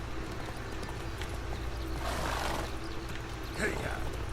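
Horse hooves trot along in The Witcher 3, a steady clip-clop carried over a constant low ambient bed, swelling briefly midway and ending with a sharper accent.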